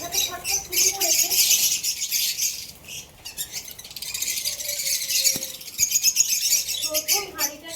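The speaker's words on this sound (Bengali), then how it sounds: "দেখতেই পাচ্ছেন পাখিগুলো আমাকে দেখে কিভাবে ছটফট শুরু করেছে" Lovebirds in a breeding colony squawk and chirp restlessly, with bursts of sharp high calls and fluttering close by, and a person speaks intermittently among the birds.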